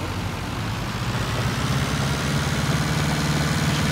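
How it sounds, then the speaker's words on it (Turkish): A low, heavy diesel engine of a two-wheel-drive Massey Ferguson 277G tractor pulling a four-furrow plough in a field drones steadily and loudly throughout, a deep rumbling under strain with no voices. "tek çeker olunca traktör böyle oluyor"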